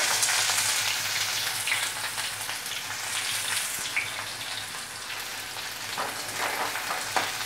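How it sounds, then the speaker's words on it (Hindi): Chopped onion hits hot oil with cumin seeds in a pan, producing a loud, continuous crackling sizzle with uneven pops and spits, close by and alone. "गरम हो गई है और हमने इसमें तेल डाल दिया है। अब हम इसमें जीरा डालेंगे। अब हम इसमें प्याज डालेंगे।"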